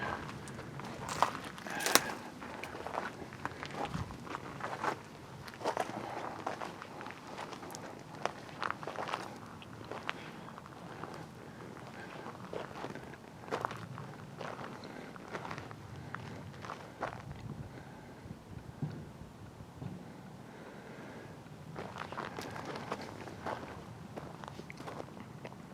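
Footsteps crunch and scuff around the back of a parked Foden eight-wheeler truck, an irregular walking rhythm that is quiet and close, with faint background noise between steps.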